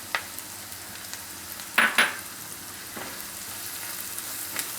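Red chili powder sizzling in hot oil while making dahi paneer, a soft continuous frying hiss with two sharper spits and a few light stirring clinks.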